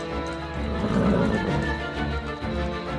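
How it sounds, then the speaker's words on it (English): A horse whinnies over a dense, rumbling background, its call rising and holding before fading, with no voices present. "a large coal-black horse with fiery eyes slowly appeared out of the gloom"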